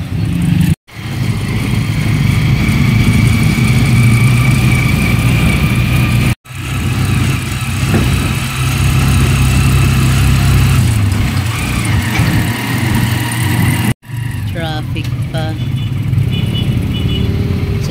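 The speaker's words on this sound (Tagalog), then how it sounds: "Nag-tricycle na lang ako." A motorized tricycle's engine runs loudly and steadily throughout a ride, with a low drone and rattling that is broken by a few brief cuts. Voices talk over it in places.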